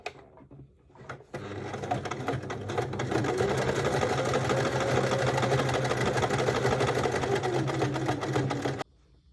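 A sewing machine stitches a seam across tote bag handles in black thread, a steady, fairly quiet whirring run of several seconds that starts after a few soft clicks and stops abruptly.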